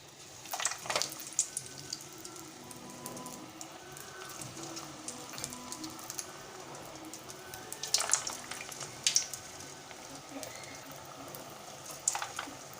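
Potato fingers deep-fry in hot oil with a soft, steady bubbling crackle, fairly quiet, with scattered sharper pops and splutters throughout.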